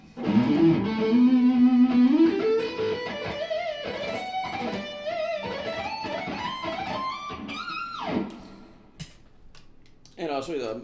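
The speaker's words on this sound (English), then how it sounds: "Distortion with the humbucker." A 2001 PRS McCarty electric guitar on its humbucker pickup plays a distorted line, loud at first and then climbing through singing notes before cutting off. A few clicks and brief noise follow.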